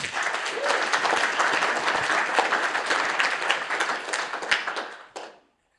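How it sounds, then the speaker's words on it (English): A conference audience applauds a finalist with steady, dense clapping that lasts about five seconds and then stops abruptly. "So a quick round of applause for Nabila."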